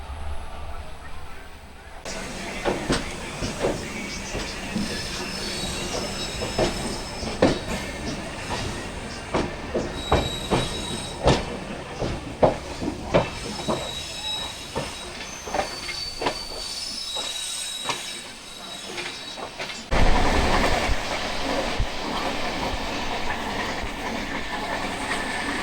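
A special train runs on rails toward Kolkata, its wheels clattering in an irregular clickety-clack with sharp squeals and bursts of hiss. The sound is close and continuous, and near the end it shifts to a louder, steadier roar.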